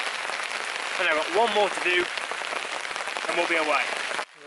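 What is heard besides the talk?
heavy rainstorm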